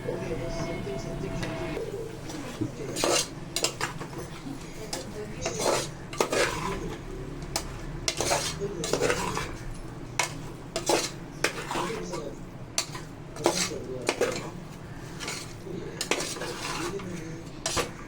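Spices and Kashmiri chilli powder get stirred into a pot for chicken kulambu, with repeated metal spoon scrapes and knocks against the vessel in an uneven rhythm while someone talks over them.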